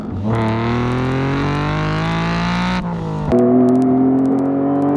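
Modified car accelerating hard through high-speed sweepers, its loud engine climbing steadily in pitch, dropping briefly at a gear change, then pulling strongly again.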